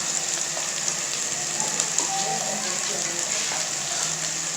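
Chopped onions sizzle in hot oil with frying garlic and ginger, a steady crackling hiss throughout with small pops and light stirring, while a voice talks softly underneath.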